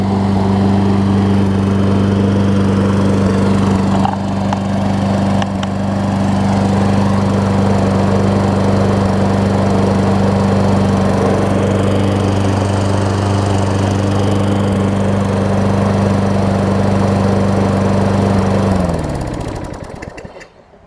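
Toro Recycler self-propelled push mower with a Tecumseh engine running loud and close with a steady droning hum, then cutting off and winding down to silence near the end.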